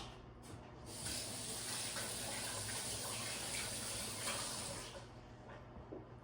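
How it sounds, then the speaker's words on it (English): A kitchen tap runs for a handwash, with water splashing over the hands into the sink in a steady, close rush that tapers off as the flow stops. "But now we need a hand wash."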